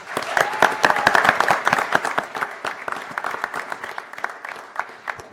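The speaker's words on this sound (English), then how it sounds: "Can we give him a round of applause?" A crowd gives a round of applause at a Tacoma Rainiers and Seattle Sounders FC press conference. Brisk, dense clapping peaks early, then thins into scattered claps over about five seconds, with a voice faintly underneath.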